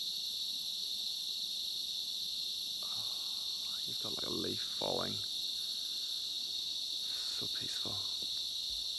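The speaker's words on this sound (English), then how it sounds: "The crickets, it's like a massage on the ears." Crickets chirp at night on Bohol Island in the Philippines, a steady, dense, high trill that runs through the whole stretch, while a person speaks softly for a few moments partway through.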